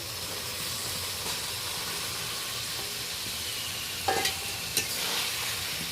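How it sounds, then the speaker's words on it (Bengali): Fried potatoes and fried egg stirred into spices in hot oil for an egg curry, a steady close sizzle and hiss with a couple of brief spoon scrapes and clinks. "এই পর্যায়ে আমি ভেজে রাখা আলু আর ভেজে রাখা ডিমটা অ্যাড করে দেবো মশলার সাথে হালকাভাবে কষিয়ে নেবো"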